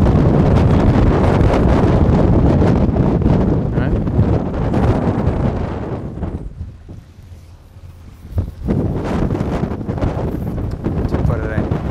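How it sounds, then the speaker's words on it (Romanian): Strong wind buffets a yacht at sea, a loud steady roar with gusts, easing briefly midway before returning; people talk over it. "Nu-i tare vânt."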